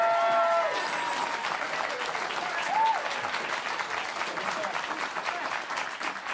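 Studio audience at a comedy talk show breaks into applause, a thick, continuous roar of clapping from a large crowd that holds steady throughout, with a voice faintly heard over it at the start.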